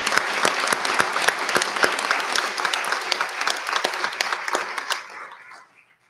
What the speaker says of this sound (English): So let's have another round of applause for our retired teachers.